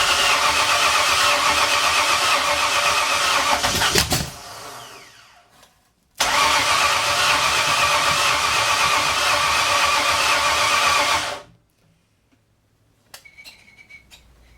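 1964 Ford F100 pickup engine cranking long and loud with the throttle held open, stopping, cranking again for about five seconds, then falling quiet apart from faint rattles.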